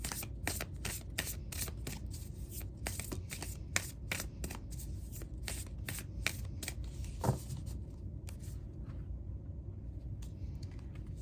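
Self-care wisdom oracle cards being shuffled close up, a rapid run of crisp riffling slaps for about eight seconds before tapering to quiet handling, with no talking.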